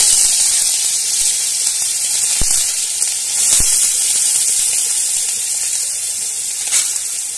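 Chopped onion fries in mustard oil in a wok after a dried red chilli tempering. A loud, steady sizzle and hiss runs throughout, broken by a couple of sharp clicks.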